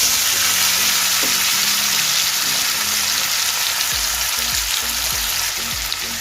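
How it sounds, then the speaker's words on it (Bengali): Cut potatoes frying in oil left over from frying prawns, a loud steady sizzle with low clinks and scrapes of stirring toward the end. "এবার এই তেলেই কেটে রাখা আলুগুলো দিয়ে দেব।"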